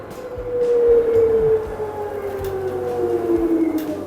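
Water inlet valve of an LG washing machine under repair, giving a steady humming drone with a tonal whine that slides and wavers, close by with faint clicks.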